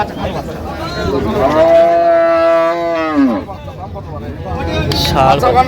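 A milk cow lowing at a busy rural cattle market in Dinajpur, one long, loud, close moo that rises and then falls away, with crowd chatter and market noise around it.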